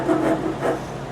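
A Nicholson 50 rasp shapes the knee block of a wooden cabriolet leg in two short, close scraping strokes.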